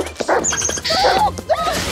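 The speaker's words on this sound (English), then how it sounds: "It was not a good idea, however, to let Reggie pick the dog" Dog making short yips and whimpering sounds close by, with some rustling movement around it.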